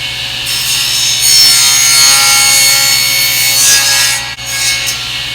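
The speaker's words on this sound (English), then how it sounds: "Now we're going to cut the insides out." A table saw cuts the insides of a wooden dovetail, a loud continuous motor whine with a rasping wood-cutting rush that holds steady for several seconds, dipping briefly near the end.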